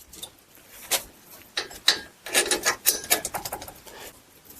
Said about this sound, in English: we'll just go ahead and tighten up our slide bolts